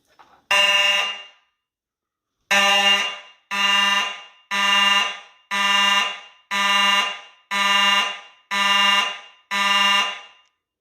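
A Simplex 4903-9219 electromechanical fire alarm horn strobe blares in a building system test: one blast, a pause, then eight loud, evenly spaced buzzing honks, each dropping off sharply.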